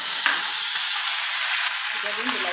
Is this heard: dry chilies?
yes